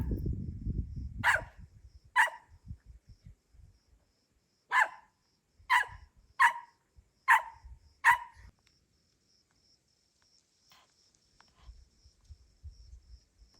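A dog named Billy barks at a passing dog walker, six sharp, separate barks spaced across several seconds, fairly close, with quiet pauses between and faint background rustling.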